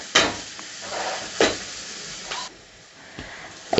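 Curry leaves and fried onions stirred in a pan for Tamil egg chutney, with a few scraping spoon strokes over a soft steady sizzle, up close and moderately loud.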